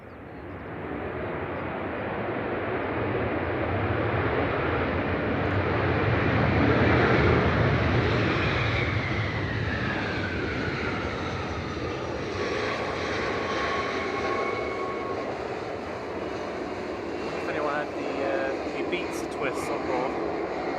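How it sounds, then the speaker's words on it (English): A Jet2 Airbus A321-200 airliner arriving from Ibiza roars past at Manchester Airport, swelling loud mid-pass with a sweeping whine before easing into a sustained distant rumble. Voices talk over it. "Jet 2 coming in from Ibiza,"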